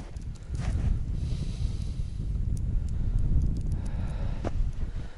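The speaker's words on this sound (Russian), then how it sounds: "Херачит снегопад с ветром." Steady low roar of wind buffeting the microphone during a snowstorm, rumbling continuously without pause.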